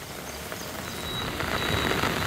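Heavy downpour over a waterlogged, flooded city street, a steady dense hiss of rain that swells slightly louder toward the end, with no talking.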